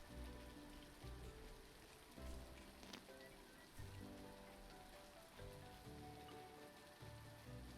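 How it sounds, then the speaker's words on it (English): Steady rain patters softly on surfaces in the cozy farming video game Littlewood, a constant wash of droplets with no voices over it. "It's raining."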